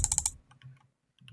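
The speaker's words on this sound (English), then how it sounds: "just go ahead and click on your keyboard Windows plus R, then type in right over here" Several quick, crisp keystrokes on a computer keyboard in a rapid burst, then quiet with a few faint, scattered clicks; a Windows shortcut being entered.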